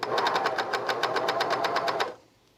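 A sewing machine stitches the thick neckline of a men's raglan shirt in a fast, even run of close mechanical pulses for about two seconds, then stops abruptly. No voices are heard.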